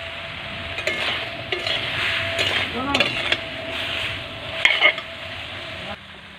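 Mustard paste being stirred in a pan as its liquid cooks down in a home kitchen, with a soft steady sizzle, intermittent scraping and clinks of a spoon against the pan, and brief voices in the background.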